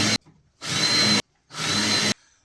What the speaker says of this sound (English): we're going to countersink these holes